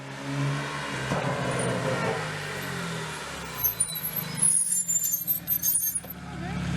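A car rolls into a residential driveway, its engine rumbling at low pitch and fairly close, then easing off into quieter mechanical clicks and rustles as it comes to a stop.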